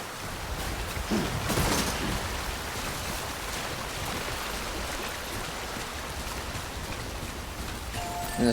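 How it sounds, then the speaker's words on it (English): Steady rain hisses across the terrain in the video game Death Stranding, an even, dense wash of patter that holds for the whole stretch with a brief louder gust near the start. "That'll probably rain."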